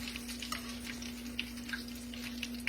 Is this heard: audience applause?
no